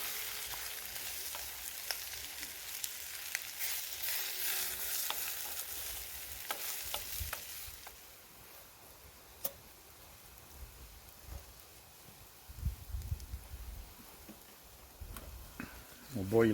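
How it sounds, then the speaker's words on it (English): Water coming to the boil in a pan on a paraffin wick stove at a wild camp, a steady broadband hiss and bubbling that stays moderate throughout, with people talking nearby and a few clatters of utensils. "Oh, the water's boiling."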